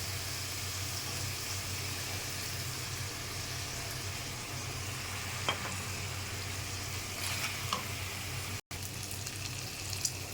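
Plantain and potatoes frying in oil with garlic and ginger paste, a steady soft sizzle holding through the whole stretch with low cooktop hum beneath and a few faint clinks.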